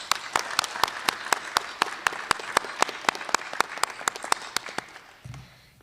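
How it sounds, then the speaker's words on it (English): Applause for award recipients at a high school Black and Gold ceremony: a small, sparse group of distinct claps in an even, quick rhythm, fairly faint and tapering off at the end. "Please join with me in giving another round of applause to our award recipients"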